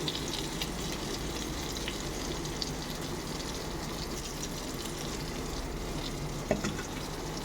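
A steady, soft sizzle of chicken curry frying in hot tempering oil continues throughout, with faint stirring and an occasional small clink.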